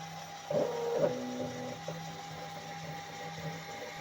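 A Daja DJ6 mini laser engraving machine raster engraves, giving a low steady hum with a few brief whirring motor movements near the start and faint ticks later.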